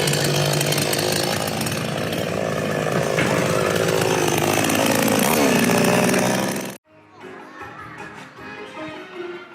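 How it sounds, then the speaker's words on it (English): Chainsaws revving loudly and continuously at a Halloween event in a busy Chinese theme park, droning for several seconds before cutting off abruptly, leaving quieter crowd chatter and background noise. "they have these characters walking around with chainsaws"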